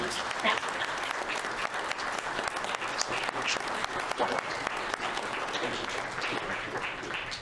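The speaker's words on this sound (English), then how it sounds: "They deserve a round of applause" Audience applause at a Utah Senate District 5 primary candidate forum, a steady wash of many hands clapping throughout, fairly close and sustained at even loudness with a few voices mixed in.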